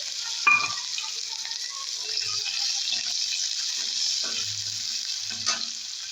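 Chopped onion and garlic fry in a pan over a steady bright sizzle, with scattered soft knocks and scraping from stirring.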